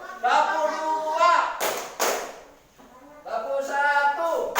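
A class of students in a rhythm-and-focus clapping game claps twice in quick unison, sharp slaps bracketed by a teacher's spoken instructions before and after.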